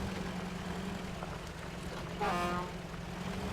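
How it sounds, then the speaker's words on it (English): A truck horn in the off-road driving game Mudrunner gives one short honk at mid volume, standing out briefly over a steady engine drone. "Honk."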